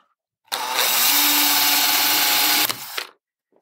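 A small 2.5 mm drill bit whines steadily into a metal counterweight for about two and a half seconds, loud and close, then cuts off abruptly.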